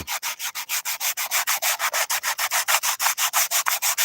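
Rapid, even back-and-forth rasping of sandpaper on handmade violin wood during rough sanding, about seven strokes per second, close and loud with no voices.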